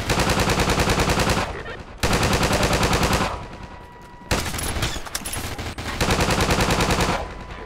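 Automatic weapon fire in the video game Half-Life 2 rattles in loud, dense bursts, three long sustained volleys separated by brief gaps, harsh and close with no talking.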